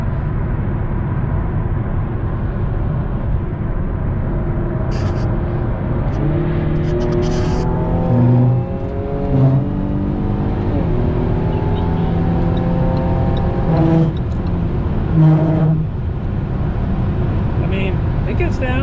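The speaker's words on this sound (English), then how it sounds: "With the windows down, the exhaust sounds so good." Car exhaust heard from inside a moving car with the windows down, a low droning engine rising in pitch through repeated gear changes as it accelerates, with a steady rumble underneath.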